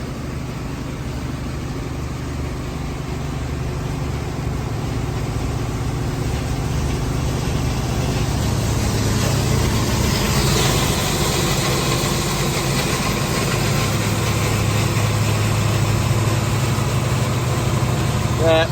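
A grinder runs steadily as ear corn is fed in to make cattle feed, a close, loud, continuous low engine drone with shifting load under faint background talk.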